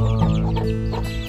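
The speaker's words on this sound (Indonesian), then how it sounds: "Ayam-ayam saya ini teman-teman, kalau saya lepas dari kandang sekedar untuk bermain," Free-range chickens roam a garden beside a house and cluck in short, overlapping bursts, close and fairly loud, with a steady low hum beneath.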